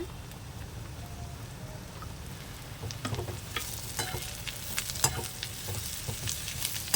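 Quarter kilo of cut bitter gourd (pavakkai) frying in a pan after onions, a steady sizzle with scraping stir strokes that grow busier and louder midway, no voices.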